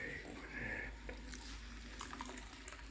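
Water pours steadily into a pot of dal cooking outdoors, a soft gurgling splash that swells in the first second and continues faintly under low background noise.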